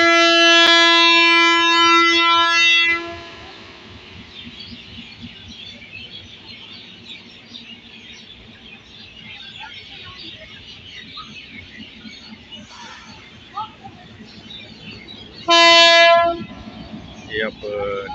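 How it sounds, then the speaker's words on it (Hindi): A GMU 30DE diesel locomotive sounds two loud sustained horn blasts at a railway junction, one at the start and another near the end, with a quieter stretch of ambient rumble and outdoor noise between them. "हॉर्न इसने बजा दिया है"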